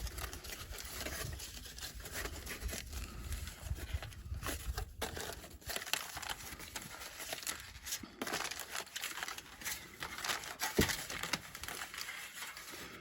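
Tin foil being unwrapped from cooked oleander charcoal sticks, a quiet, close crinkling and crumpling that continues unevenly, with occasional sharper rustles.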